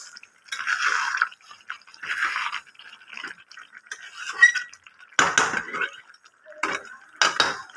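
A lid goes onto a cooking pot of chicken do pyaza on a low gas flame, several metallic clinks and clatters of lid against pot in separate bursts, with a few sharper knocks near the end.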